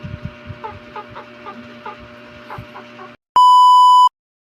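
A chicken clucks in a series of short, soft, rhythmic calls, then the sound cuts off and a loud electronic beep follows.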